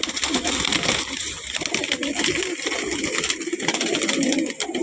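Several pigeons for sale coo in low, murmuring calls close up, overlapping with a dense ambient hubbub.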